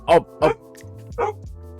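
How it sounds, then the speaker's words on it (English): Dogs barking indoors, three sharp close barks at uneven intervals with a faint yip between them, over a quiet background tone. "Don't know why the dogs are going crazy."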